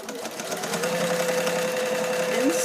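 A sewing machine stitching folded fabric into a fusible batting tube, a fast steady mechanical whirring hum running throughout at close range, with a voice speaking over it.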